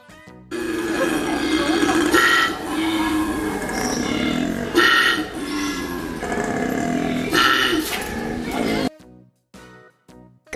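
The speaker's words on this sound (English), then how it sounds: "Koala." A koala makes deep, rough grunting calls in close, loud bursts that repeat over several seconds, then stops abruptly, leaving a short quiet tail.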